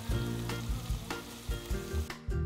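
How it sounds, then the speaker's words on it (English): Onion, basil, salt and a chilli pepper simmer gently in extra virgin olive oil in a home kitchen pan, a steady close sizzle with a few soft bumps and clinks from the pan. "She adds basil, salt, and a chilli pepper and leaves everything to simmer."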